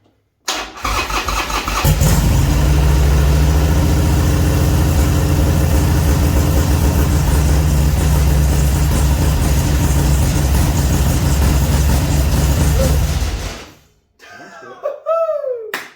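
A newly installed Hammer 1275 engine cranks briefly, fires and settles into a loud, steady running note that fills most of the clip, then cuts off, followed by a few short excited voices.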